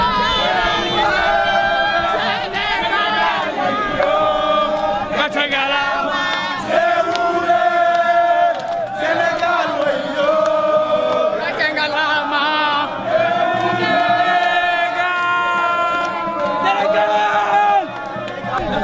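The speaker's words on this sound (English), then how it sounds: "just everyone cheering and having fun and celebrating." Crowd on the streets of Marrakech cheering and celebrating Senegal's football win, with loud continuous shouting, chanting voices and chatter throughout.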